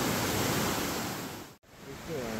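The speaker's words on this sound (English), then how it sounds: "Yeah, this is not how high this river normally is." A river running higher than normal makes a loud, steady rushing roar close by, briefly interrupted by a short dropout before the flow resumes.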